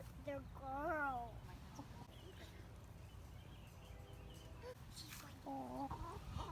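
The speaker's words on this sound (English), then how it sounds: "That's a girl chicken." Hen chickens cluck in short rising bursts near the start and again toward the end, close and fairly clear, over steady background noise while people talk nearby.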